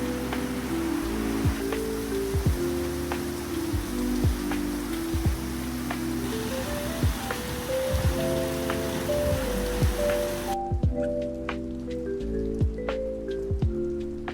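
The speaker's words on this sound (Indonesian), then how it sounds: "di luar hujan" Steady rain falling outside, a dense broadband hiss with scattered drips, heard alone beneath a continuous low musical hum, no speech.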